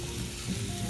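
Batter sizzles and crackles steadily in a hot pan, a dense close-up frying hiss that holds at an even level throughout, with no talking.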